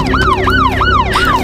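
A police siren wails in a fast, repeating rise-and-fall cycle, loud and close, about four sweeps in quick succession.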